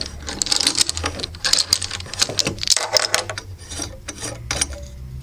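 Recessed Neoperl faucet aerator being unscrewed with a small key tool, giving close, busy clicking, ratcheting and scraping metal-on-plastic sounds in irregular bursts with no talking.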